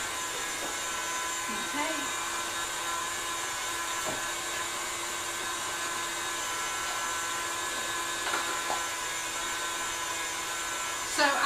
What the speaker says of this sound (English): Let me turn my mixer up a little bit more.